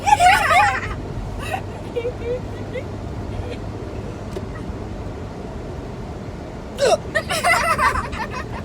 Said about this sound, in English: I hate having hiccups.